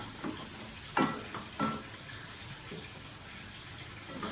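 Masala for aloo dum biryani sizzles softly in a pan, with a few scraping stirs standing out over a low, steady frying hiss.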